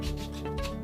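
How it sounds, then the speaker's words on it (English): A furnace part is rubbed with 200 grit sandpaper in one short, close scratchy stroke of under a second. "I'm just gonna go ahead and use the sandpaper."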